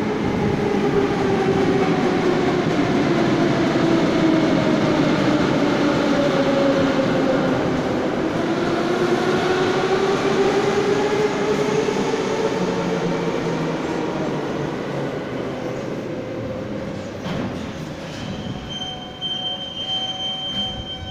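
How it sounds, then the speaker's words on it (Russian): A Moscow metro train rolls into Okruzhnaya station on a winter evening, its rumble swelling then easing as the wheels squeal in long rising and falling tones while it slows. "Пока посмотрим прибытие поезда на Селигерскую."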